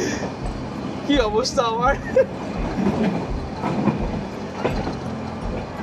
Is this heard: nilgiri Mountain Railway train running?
yes